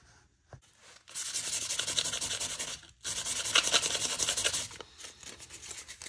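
Sandpaper of 180 grit rubs back and forth over a jaw harp reed, giving two long bursts of steady, close scratchy sanding separated by a brief pause, with no talk.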